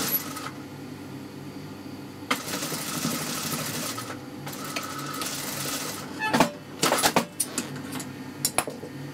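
A sewing machine stitches around a garment neckline in short, stop-start bursts of mechanical whirring, followed by sharp metallic clicks and taps as the presser foot is lifted and the fabric is turned.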